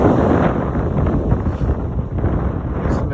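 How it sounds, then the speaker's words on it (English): Strong wind gusts batter the microphone at a lakeside beach with whitecaps on the water, a steady, loud roaring rush that fills the whole clip and has no voices. "It's windy as heck."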